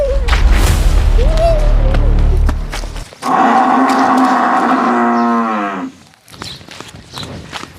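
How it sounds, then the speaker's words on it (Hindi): A wild buffalo lets out a long, loud, close bellowing low of several seconds, with heavy thuds and scraping noise before it and brief scuffling after, in a village setting. "एक जंगली भैंसा आ गया है"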